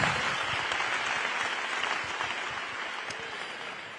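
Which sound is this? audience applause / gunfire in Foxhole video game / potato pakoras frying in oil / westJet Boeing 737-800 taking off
audience applause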